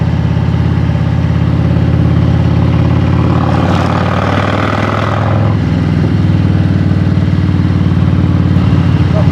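Harley-Davidson motorcycles cruising on a ride, a loud, steady low engine rumble with a swell of revving midway, close and continuous with no speech over it.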